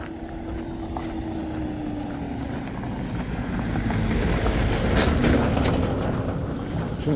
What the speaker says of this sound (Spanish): Viene un vehículo.